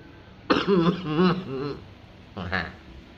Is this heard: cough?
yes